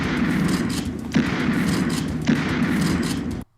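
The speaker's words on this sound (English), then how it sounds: "But my favourite is the shotgun." Two loud, booming shotgun blasts from a Terminator video game, with heavy rumbling between them, game-style gunfire that cuts off abruptly at the end.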